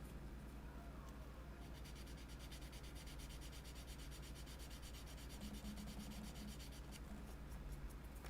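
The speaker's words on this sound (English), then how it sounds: "Let's get some finish sanding here on these edges." Finish sanding along the edges of a plastic model part, steady rapid rubbing strokes close by and fairly quiet, continuing without pause.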